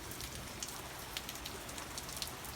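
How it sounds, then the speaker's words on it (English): Rain from Hurricane Matthew falls off a roof at night, a soft continuous patter of drops with occasional sharper splashes, steady and close. "That's the rain off the roof."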